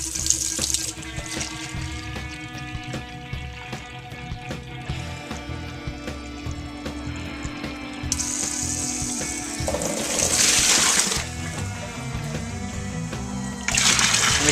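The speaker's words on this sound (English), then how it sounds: "Let's get the hot water blowing." Hot water runs from a tap into a home-distilling fermenter while the wash is being made. The flow is steady and splashing, with gurgles and a few louder bursts of rushing water, and no one speaks.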